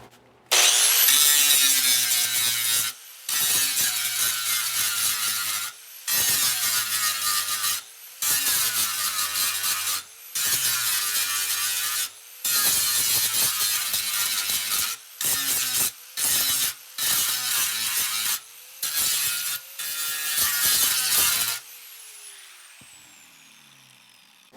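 A bench grinder stone grinds down a weld in repeated long passes, a loud harsh metallic rasp broken by short pauses between strokes, then spinning down at the end.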